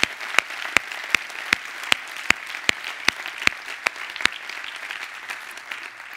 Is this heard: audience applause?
yes